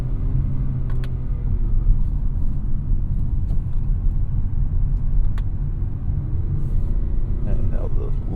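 A 2024 Acura RDX in S mode accelerates with a steady, loud low engine drone and road rumble from inside the cabin, rising as it downshifts and pulls, with occasional faint clicks above.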